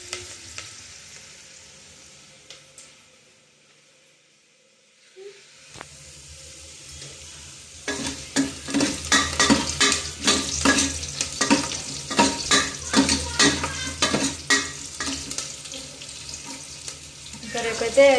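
Tempering fries in a hot pan, quiet at first, then a loud, steady sizzle and hiss breaks out with repeated scraping and clattering stirs close by.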